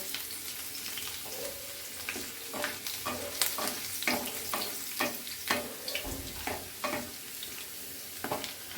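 Chopped ginger and boiled, lightly mashed potato fry in a pan for spicy masala aloo, with a steady sizzle and frequent sharp scraping clicks of a spatula stirring close by, with no talk.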